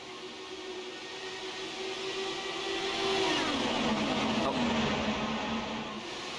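Race cars in a video game surge away from a green-flag start at Pocono, a dense steady engine drone with a rising then falling whine over constant broadband noise.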